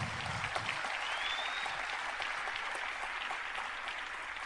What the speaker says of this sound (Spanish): les pedí este aplauso